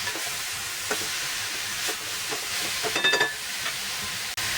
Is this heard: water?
no